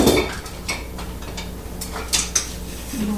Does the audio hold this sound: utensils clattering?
yes